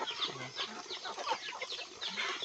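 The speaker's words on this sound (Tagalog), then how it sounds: "Ito yung gusto niya, maliit na manok." Small chickens clucking in a steady, overlapping chatter, with soft higher chirps scattered throughout and a close, continuous presence.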